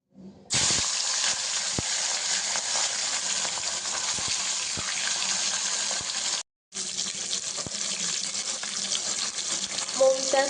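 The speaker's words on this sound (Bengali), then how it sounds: "এবার এটাকে হালকা করে ভেজে নেব মাছগুলোকে।" Fish, katla, lightly frying in a pan in a home kitchen, a steady broadband sizzle that runs almost continuously with a brief break, scattered small pops and clinks on top.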